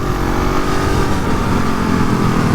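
A KTM 690 Enduro R motorcycle fitted with a new exhaust runs on a wet road, its engine droning loud and steady up close with no pauses.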